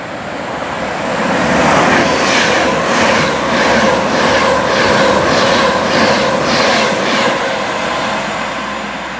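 Train at Sandbach station on a Northern route, a steady rolling rumble and hiss swelling and easing with rhythmic pulses as carriages move past the platform, with no voices.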